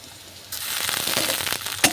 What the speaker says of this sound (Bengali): এটাও ভালো করে নেড়ে চেড়ে নেব। রসুন আর আদা ভালোভাবে ভাজা হয়ে গেছে।